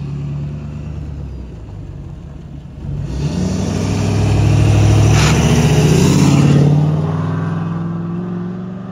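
A 2019 6.7-litre diesel truck with a steel-body muffler and 5-inch to 8-inch exhaust tip idles low, then revs up into a loud, deep exhaust roar that holds for a few seconds before settling back.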